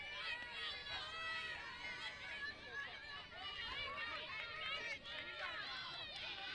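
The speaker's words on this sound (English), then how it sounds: "you hear the Ravens cheering her on from the dugout" A high school softball team, the Robbinsville Ravens, cheers and chatters from the dugout during a playoff game, with lively overlapping voices and shouts under continuous crowd babble.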